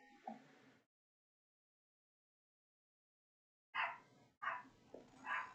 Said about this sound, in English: You will hear dogs.